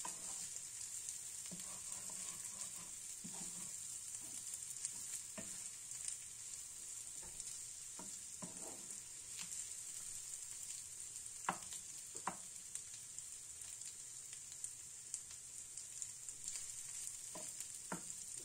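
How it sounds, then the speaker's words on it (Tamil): Spicy prawns sizzle steadily in a hot pan, with a bright constant hiss and scattered scraping clicks as a spatula stirs them at irregular intervals, close and fairly quiet, with no voices. "நல்லா இந்த மாதிரி ஃப்ரை பண்ணி விட்டுட்டே இருங்க."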